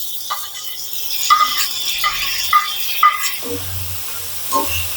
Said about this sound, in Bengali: এই অবস্থায় আমি আলু এবং ঢেঁড়সটা ঢেলে দিচ্ছি